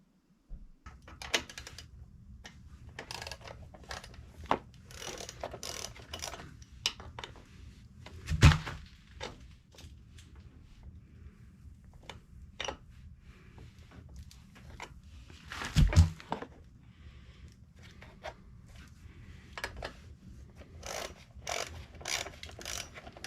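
Two 10mm bolts come off an Ariens Deluxe 30 snowblower with a ratchet wrench, giving repeated short clicking and ratcheting bursts with a couple of louder metallic clanks, close up and without talk.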